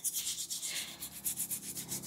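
Carrots being scrubbed clean of dirt during juice prep, a close, rhythmic rasping rub of bristles over the skin in quick repeated strokes, with no talking.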